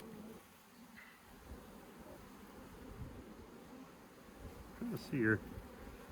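Honey bees on a pallet hive during a fall inspection buzz faintly in a continuous drone, with a brief closer buzz near the end and a person speaking quietly over it.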